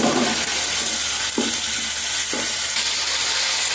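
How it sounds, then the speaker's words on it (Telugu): Curry leaves and coriander fry in a hot pan, a loud steady sizzle broken by a few short stirring scrapes, with no one speaking. "కరివేపాకు వేసాను తర్వాత కొత్తిమీర వేసాను వేగుతూ ఉంది"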